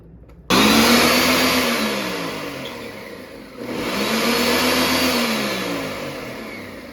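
A blender whirs loudly through a Barbados fruit cake mixture for Christmas, starting abruptly, easing off in pitch and loudness, briefly dipping, then surging back to a steady grind, with no talking.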